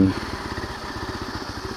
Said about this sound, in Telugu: ఇప్పుడు నేను ఇంజన్ ఆన్ చేద్దాం. Engine on.